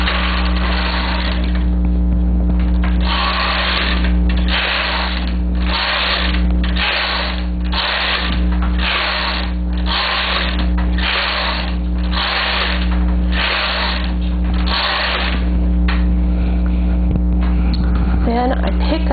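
A knitting machine carriage being run back and forth across the needle bed to knit rows for a plain hem, a loud steady rhythmic whirring and clacking sweep repeating evenly.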